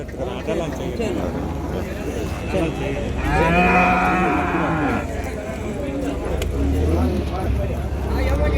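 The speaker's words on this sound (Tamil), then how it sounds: "சூப்பராக ஒரு பசு ஒன்று இருக்குது பாருங்க" At the Vaniyambadi cattle market, a cow lets out a long, loud moo amid a constant din of crowd noise and nearby voices.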